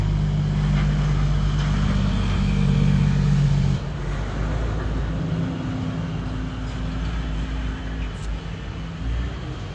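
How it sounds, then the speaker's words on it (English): Heavy trucks roll past on a road on a weekday morning, a steady loud rumbling drone with engine hum that swells and eases slightly as vehicles go by. "A lot of truck traffic on this Tuesday morning."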